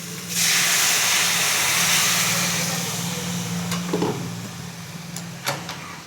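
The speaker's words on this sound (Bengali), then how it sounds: "এবার আমি কুমড়ো শাকের সাথে যে মসুর ডালটা সিদ্ধ করা ছিল ওটা আমি দিয়ে দিচ্ছি।" Boiled masoor lentils with pumpkin greens poured into hot frying spices in a pan, giving a loud burst of hissing sizzle that slowly fades over several seconds, with a couple of clinks near the end.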